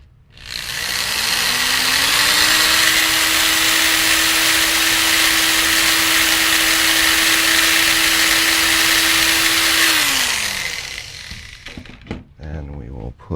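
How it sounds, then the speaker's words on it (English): A power drill bores into part of a Volantex Ranger 2000 RC plane build. The motor spins up, holds a steady loud whine for about eight seconds, winds down, and a few small clicks and handling noises follow. "We'll drill this one."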